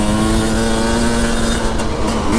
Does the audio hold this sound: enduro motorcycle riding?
yes